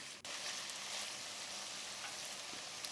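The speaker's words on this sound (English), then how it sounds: "now we need to fry the meat really well until it changes color" Venison fries in a pot under constant stirring, giving a dense, even sizzle that runs throughout, close and steady, with one sharp click at the start.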